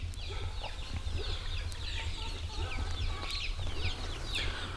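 Month-old Rhode Island Red and Olive Egger chicks outdoors on grass, with a constant busy chorus of soft peeps and clucks over a low background rumble.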